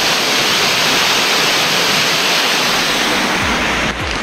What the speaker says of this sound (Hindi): पूरा पानी इसके अंदर जा रहा है, इसकी ज़्यादा कहीं निकल जाएगा।